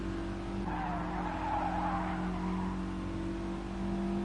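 A touring car in a Gran Turismo Sport BTCC race at Sainte Croix skids through a half spin after contact. Steady engine tones run under a rough, noisy tire scrub, all heard faintly from a distance.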